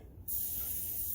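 A sharp, steady hiss of an upside-down aerosol can blowing air bursts on after a brief quiet moment and continues loudly and evenly to the end.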